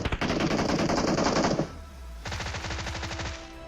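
Automatic gunfire in the PUBG Mobile video game: a dense, loud burst of rapid shots lasting about a second and a half, a brief gap, then a second sustained volley.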